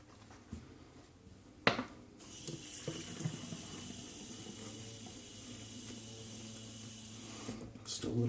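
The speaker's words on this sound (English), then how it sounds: "add just a little bit of water up top and see what this splash can do" Water runs from a tap into a tub of shaving soap for a splash of lathering water, a steady hiss lasting several seconds, bracketed by clunks and handling noises at the start and end.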